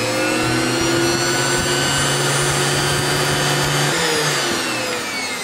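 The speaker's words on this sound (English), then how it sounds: "So I'll turn the vacuum on" A Prolux CTX water filtration vacuum cleaner runs steadily after being switched on, its loud, constant motor whine holding alone throughout with no talking.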